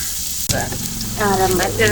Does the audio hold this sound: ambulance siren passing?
no